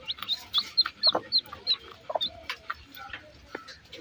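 A hen with newly hatched chicks: rapid high peeping from several chicks mixed with low, soft clucks from the hen, close and continuous, with some faint background noise.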